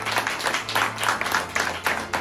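An audience applauds steadily during a Hindi motivational business talk: a dense, continuous wash of many hands clapping at a moderate distance, with a low hum underneath and no voice over it.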